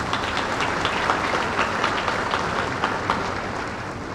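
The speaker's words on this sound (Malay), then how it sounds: "Berikan tepukan yang gemuruh kepada mereka." A crowd at an army day parade in a military camp bursts into sustained applause, many hands clapping in a dense, steady roar with distinct claps audible, easing off slightly toward the end.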